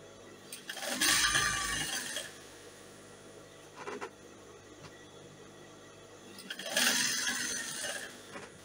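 A sewing machine stitches elastic onto a batwing dress in two sustained bursts, with a softer brief run of stitching between them, close and fairly quiet.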